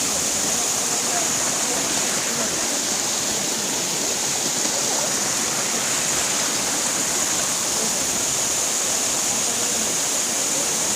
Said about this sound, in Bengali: ওই নিচে দিয়ে জলটা বেরোচ্ছে।